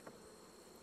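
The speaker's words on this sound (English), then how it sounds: "there's enough bees in here to kill you" Honeybees buzzing inside a hive, a steady dense hum with no break, faint and continuous, with no voices over it.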